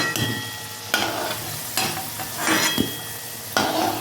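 Potatoes fry in a pan with a loud, continuous sizzle, punctuated by several sharp stirring scrapes at irregular intervals. No talk is heard.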